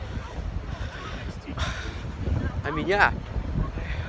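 Wind buffets the microphone at Pismo Beach, a steady roar with gusts running under a person speaking casually throughout.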